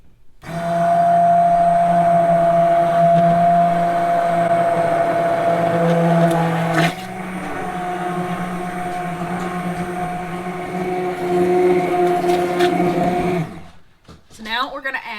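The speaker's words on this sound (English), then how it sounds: "And now we use our submersion blender to mix it all up." Immersion blender whirring steadily while mixing oils, goat milk and water into lotion, a close, even motor hum for about thirteen seconds that cuts off before some clattering handling noise.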